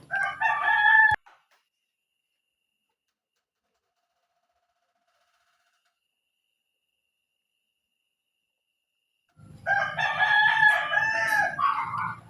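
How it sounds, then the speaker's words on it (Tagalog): A rooster crows loudly nearby at the start, then after a long silence crows again with chickens clucking and faint insect chirps underneath. "medyo maingay ang ating mga manok dito"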